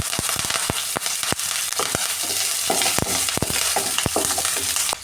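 Curry leaves, green chilies and ginger fry in a pan for cabbage thoran, crackling and popping sharply over a continuous loud sizzle, with frequent snapping bursts and no voices.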